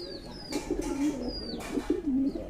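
Satin pigeons cooing softly in a loft, low repeated throaty coos close by with faint chirps and a steady background hum.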